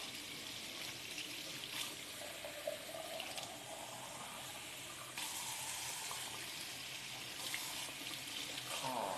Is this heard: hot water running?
yes